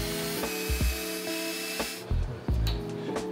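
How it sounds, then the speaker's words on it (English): A drill runs continuously with a high whine, punctuated by several clicks and knocks as it bites in, then slows near the end. "I need to figure out where to drill holes."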